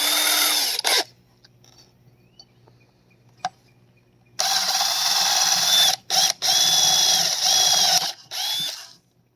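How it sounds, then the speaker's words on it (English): A small drill whirs loudly for about a second boring a pilot hole in driftwood, then falls quiet before two longer, louder bursts of steady high drilling, each broken by short pauses. "you want to use a little drill first, because a little hole will help you get started"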